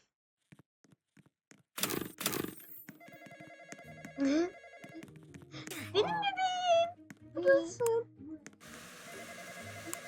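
A telephone rings in a Roblox game, a repeated electronic bell tone mixed with other game sounds, while children talk over it.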